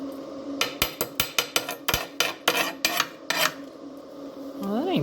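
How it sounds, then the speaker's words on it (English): Sharp metal-on-metal knocks from a chipping hammer striking slag off a fresh weld made with a very cheap welder, about a dozen close, loud hits in an uneven rhythm, then a brief faint whine. "Let's grab our expensive chipping hammer."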